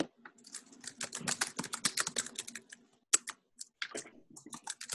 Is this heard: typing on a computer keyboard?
yes